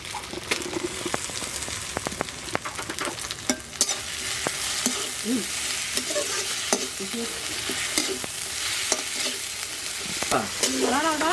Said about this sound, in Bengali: এবার এটা জিরে আর ধনে পেস্টটা দিয়ে দেবো